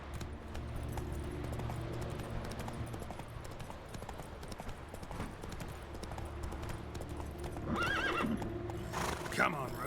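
Roach, a horse in a video game, gallops with continuous rhythmic hoofbeats and lets out a whinny near the end, with game music and a person talking over it.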